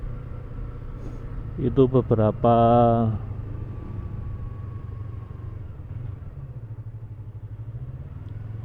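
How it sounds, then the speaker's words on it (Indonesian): A two-cylinder Yamaha MT-25 motorcycle engine idles with a low, steady throb, briefly revved in a couple of quick blips, while a voice speaks a short word. "Ini suaranya gurih, apa suara 2 silindernya tuh"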